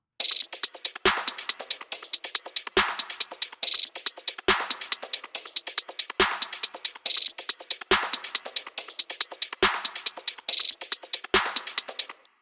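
Beast mode beat loop texture from Loop Elements Pro: a repeating pattern of sharp, deep-thumping hits about every 1.7 seconds, each trailing into a bright, noisy swell, looped steadily with no voices.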